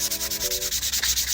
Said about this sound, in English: use the enclosed sandpaper to smooth all rough edges